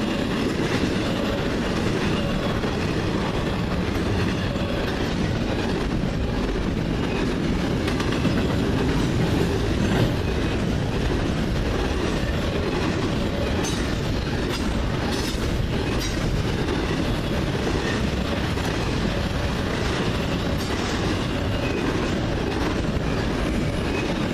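CN freight train Q198 passing at Ladysmith, a loud continuous rumble with rhythmic wheel clatter and rail noise sustained throughout, close to the track.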